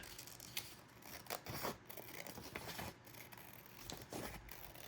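Scissors snipping Tim Holtz paper wallpaper flowers for crafting, with a series of quiet, close, irregular cuts and light paper rustles.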